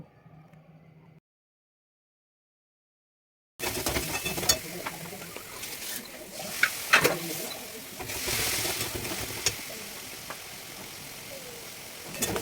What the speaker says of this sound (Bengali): তারপরে পেঁয়াজ, রসুন, আদাটা ভালো করে কষে গেলে হলুদ, শুকনো লঙ্কা, জিরে গুঁড়ো, নুন আর সামান্য পরিমাণে জল দিয়ে ভালো করে কষিয়ে নেব